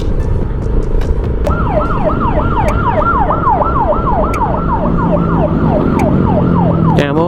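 A wailing ambulance siren rises and falls steadily over heavy, constant traffic rumble, the emergency vehicle loud and close for the whole stretch.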